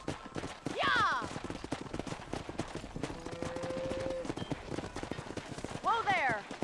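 Rhythmic clip-clop of horse hooves throughout in Red Dead Redemption, with short bursts of voices shouting over them.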